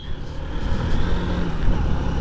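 City road traffic heard while riding a new Honda Unicorn 160cc motorcycle: a loud, continuous rumble of engines and vehicles with a faint passing whine, steady and close throughout, with no talking.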